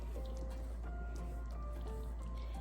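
Thick rice congee boiling in an Instant Pot on the saute setting, a close, steady bubbling and squishy popping with small gurgles and drips throughout, over a low constant hum.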